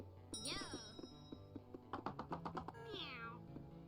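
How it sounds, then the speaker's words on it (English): Cartoon cat meows from the video game Cat Cafe Manager, two rising-and-falling mews with soft chiming dings between them, heard fairly quietly with some faint background sound. "Meow."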